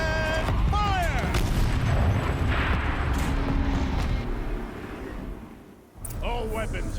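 Turret cannon fire in the video game Horizon Zero Dawn, a loud, sustained barrage of booming blasts that fills most of the clip, briefly dipping before resuming, with voices talking over it.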